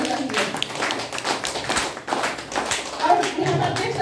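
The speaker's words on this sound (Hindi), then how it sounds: "तो एक बार हमारे रिएक्शन प्रोडक्ट के लिए जोरदार तालियां होना चाहिए।" A Hindi presentation audience claps for a product demo, producing steady, dense clapping throughout, with a fairly close, full sound and faint voices mixed in.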